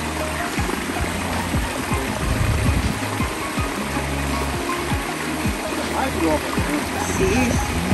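River stream flowing through woods, a steady broadband rush of running water close by, with low rumbling handling noise and possible voices underneath.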